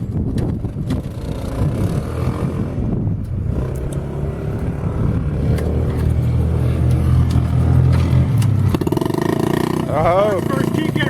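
A kick-started engine catches and runs with a rough low rumble, heard close, while voices talk over it and a sharp mechanical whine rises near the end.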